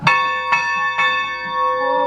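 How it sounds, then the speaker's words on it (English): A historic time-telling bell in Green Gate Village in downtown St. George, Utah, struck three times in steady rhythm, each clear metallic strike ringing on with a sustained hum. "this bell told you the time"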